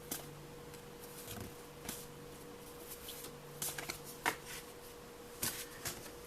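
Cards from the Eldritch Horror board game being shuffled by hand, a quiet run of soft riffling and snapping bursts, close and faint, with no talk.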